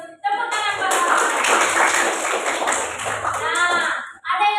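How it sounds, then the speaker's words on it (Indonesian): A classroom of children claps together in a dense burst lasting several seconds, with a voice heard briefly at the start and end. "Tepuk tangan buat kawan."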